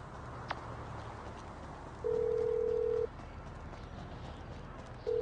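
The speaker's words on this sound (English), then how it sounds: "Whoa, who changed my ringtone?" A phone ringtone in Grand Theft Auto V sounds as a plain steady electronic tone, one long beep of about a second then a second starting after a pause, over low ambient game noise and a single click.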